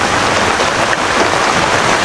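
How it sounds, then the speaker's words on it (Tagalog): Steady, loud rain falls without pause during a flood at a farm house, a dense unbroken hiss with no voices. "Ito pa kaya na ulan lang yan."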